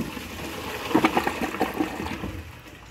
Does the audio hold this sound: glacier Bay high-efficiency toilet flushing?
yes